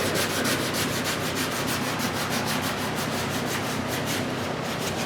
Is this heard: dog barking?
no